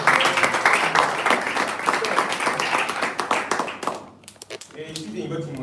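Church congregation applauding a brother and sister during a French-language service, dense clapping filling the room for about four seconds, then fading into scattered claps and voices.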